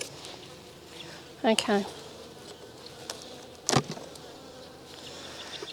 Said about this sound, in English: The bees are not enjoying the sound of that scraping